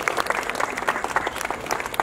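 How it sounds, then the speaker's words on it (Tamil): Crowd at a Danish temple chariot festival for Abirami Amman claps after a violin performance, a steady patter of applause heard moderately near with faint voices underneath. "எங்க எங்களுடைய கரகோஷம்?"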